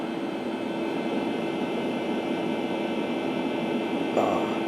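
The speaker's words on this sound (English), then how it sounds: "Listen to that hard drive." An old computer hard drive in a Windows 3.1-era machine drones steadily with a loud, constant mechanical hum and whir, unbroken throughout with a brief faint click near the end, no voices.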